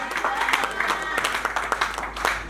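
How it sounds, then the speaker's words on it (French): Audience applause at a wedding celebration, a steady patter of clapping from a crowd with some voices mixed in, lasting a few seconds at moderate loudness. "On peut applaudir très fort pour notre frère."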